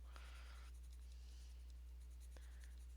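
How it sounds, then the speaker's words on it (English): A colored pencil, held on its side, shades across paper in soft scratchy strokes: a longer stroke, a pause, then shorter rubs, faint and close over a steady low electrical hum, with no speech. "I'm just using the side of the pencil,"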